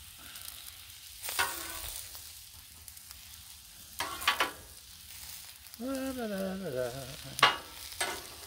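Eggplant and mixed vegetables cook on a Blackstone griddle: a low sizzle runs throughout, broken by several sharp spatula scrapes and clatters and a brief squeaky whine near the end.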